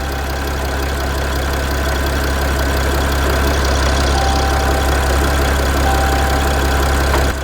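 A Mercedes Sprinter van engine idles steadily up close, with a loud constant low rumble and a faint knocking texture that holds evenly for the full length, with no speech.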